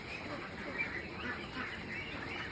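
Meat ducks in a pen give a steady, dense chorus of overlapping quacks, continuous and moderately loud throughout.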